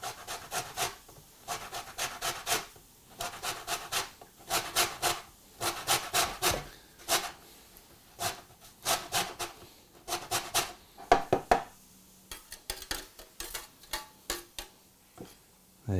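Lemon and orange peel is grated on a zester in quick, repeated raspy strokes that come in short rhythmic clusters, close and fairly quiet, with no talking.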